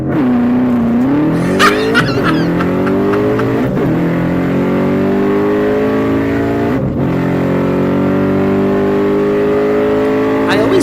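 A drag race car launches at 6,000 RPM, its engine roaring loud and close and climbing steadily in pitch after a brief hold. Faint tire squeal or skid noise and some talk sit underneath.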